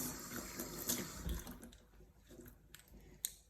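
Tap water runs and splashes as makeup brushes are rinsed under it, a steady wash that thins out partway through, leaving scattered drips and small knocks.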